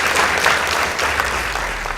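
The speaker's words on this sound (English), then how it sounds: "Please give them a round of applause." A school debate audience applauds the competing boys' high school teams, a broad, even wash of many clapping hands that stays loud and sustained without a break.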